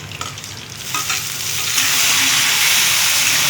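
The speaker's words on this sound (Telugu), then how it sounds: "కొత్తిమీర, కరివేపాకు వేస్తున్నాం." Curry leaves and coriander drop into hot tempering oil with mustard and cumin seeds and green chillies, setting off a sizzle that swells into a loud, steady hiss, with some stirring sounds at the start.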